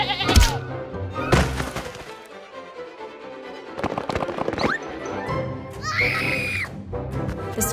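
Sheep bleat and scream in an animated animal adventure, several loud, wavering cries in quick succession with sharp thumps and bursts of effects between them.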